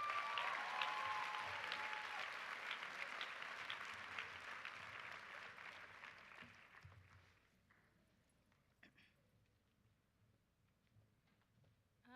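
A graduation ceremony crowd applauds students at Ohio State University, dense clapping that gradually fades out over several seconds, leaving a few scattered claps and quiet room tone.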